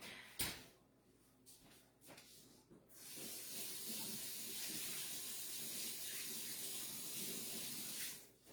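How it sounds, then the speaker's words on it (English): Water runs steadily from a kitchen tap for hand washing during baking, a close, even hiss and splash lasting about five seconds after a few brief clunks. "Let me wash my hands."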